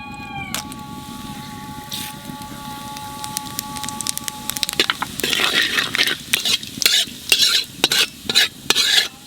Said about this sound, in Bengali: আলু ভাজা তেলের মধ্যে দিয়ে দেবো জিরে আর তেজপাতা